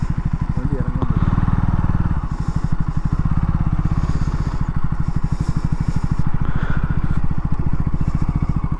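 A motorcycle engine chugs steadily and loudly up close as the bike is ridden across a red sand desert, its rapid firing pulses running throughout with a brief rev near the start.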